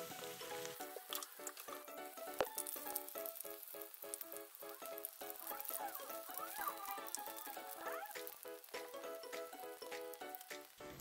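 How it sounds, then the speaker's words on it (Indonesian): Tofu fries in hot oil in an Indonesian home kitchen, a dense, even sizzle and crackle that holds steady throughout, alone with no talking. "minyak sudah panas, langsung saja tuang atau goreng tahu"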